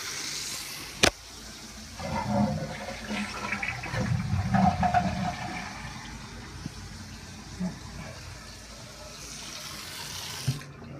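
Tap water runs steadily through a faucet's aerator screen, a soft, even hiss and splash that continues for the whole stretch with no voices, fairly quiet and close.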